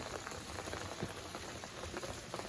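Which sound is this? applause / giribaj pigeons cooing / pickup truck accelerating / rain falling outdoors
rain falling outdoors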